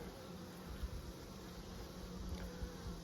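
Honey bees hum steadily around an opened hive, a soft continuous buzz close by with no voices.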